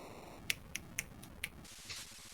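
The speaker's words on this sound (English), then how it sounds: "That was the sound of one hand snapping." One hand snaps its fingers four times in a quick, uneven sequence of sharp, dry clicks, close and clear against faint background noise.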